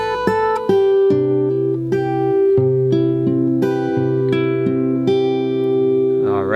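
Guitar picks out the intro hook of a song with double-picked notes, a steady run of clear plucked notes ringing close and alone, no voices.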